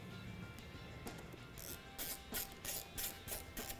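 A ratchet clicks in quick bursts while original grille screws go back into a 2015-2017 Ford Mustang front end, fairly close and quiet, with no talking.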